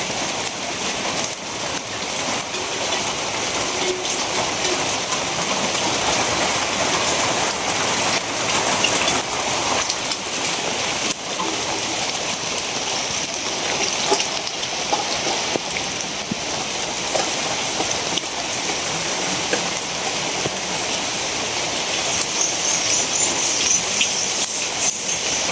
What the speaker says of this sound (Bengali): বৃষ্টি শুরু হয়ে গেছে, ধুম বৃষ্টি।